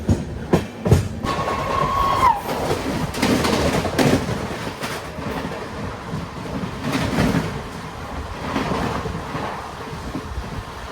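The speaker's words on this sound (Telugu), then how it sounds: "ఏదో ట్రైన్ అది ఎడికి పోతుందో తెలియదు కానీ చాలా స్పీడ్లోనైతే పోతుంది" A train passes at high speed with a continuous rolling roar and rattling, a brief whistle-like tone early on, no voices.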